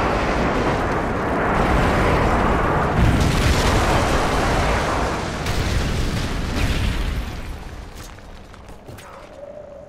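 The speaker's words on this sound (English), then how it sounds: "Delta airstrike on the way." An airstrike pounds the Lockdown map in a Call of Duty MW3 Search and Destroy match, a loud rolling barrage of booms and rumble that gradually fades toward the end, with no voices.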